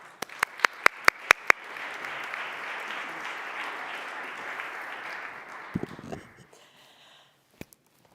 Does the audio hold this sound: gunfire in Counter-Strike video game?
no